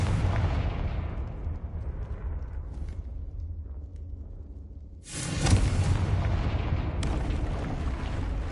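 A Confringo blasting spell explodes in the video game Hogwarts Legacy, a deep rumbling blast that builds and then cuts to a second sharp, loud burst with a crackling tail and a further boom after it.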